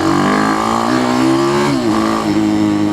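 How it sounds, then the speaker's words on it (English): An Ohvale GP-0 190cc mini GP motorcycle running at high speed on a neighborhood road, its engine holding a loud, steady high-revving whine with a brief dip and recovery as the throttle shifts, close and continuous with no talk. "the Ohvale GP-0 190cc mini GP bike"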